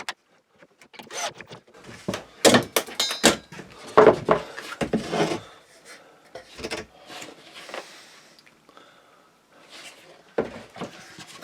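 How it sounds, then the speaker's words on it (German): A wooden French cleat is screwed together from below in uneven, sharp bursts of driving and clicking separated by quiet pauses, close by in a quiet workshop. "Und dann schrauben wir das von unten fest."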